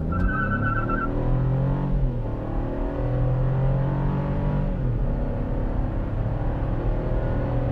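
A 2024 Chevrolet Trax launches hard from a standstill in a full-throttle 0-60 run, its engine droning loudly and rising in pitch, dropping briefly at two gear changes before climbing again, with no talking.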